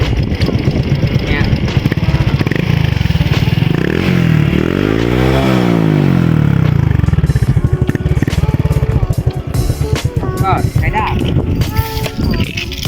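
Loud, raspy motorcycle engine with the exhaust muffler removed, leaving only the header pipe, revving up and down close by on a road, with a rising-and-falling pitch sweep midway and rattly exhaust throughout.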